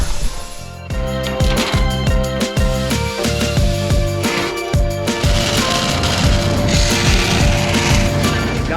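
Metal plate being cut out for a C8 Corvette drift car build, a loud, continuous, rapid chattering and banging of a cutting tool working steel, with no talk.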